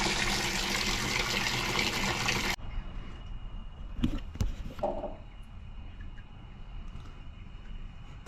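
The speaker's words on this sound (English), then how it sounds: "So we can fill the jacuzzi up again and test it." A jacuzzi fills with water after an Ethink ET-H3000 heater replacement: a loud, steady gush of running water for a couple of seconds, then it stops, leaving faint hiss and a few brief knocks and clunks.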